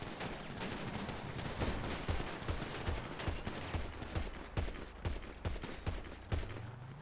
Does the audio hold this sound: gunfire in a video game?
yes